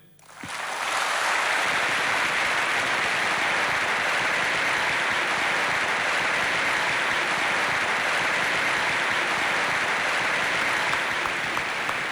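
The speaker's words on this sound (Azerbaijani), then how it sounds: "bu cümleleri alqışlayırıq, himni alqışlayırıq" A large audience breaks into loud applause for a performance of the World Azerbaijanis' Anthem, rising quickly from quiet and then holding as a dense, sustained roar of clapping.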